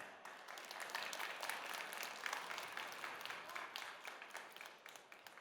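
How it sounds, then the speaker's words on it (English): Applause from a conference audience for a company speaker, a dense, even wash of many hands clapping, heard from a distance for several seconds with no talk. "Another round of applause for Amazon."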